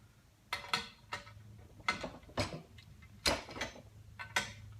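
A hand wrench ratchets on a bolt fitted to Calvert Racing mono-leaf springs, giving short bursts of rapid metallic clicks in a repeating rhythm, close and fairly loud against a quiet background.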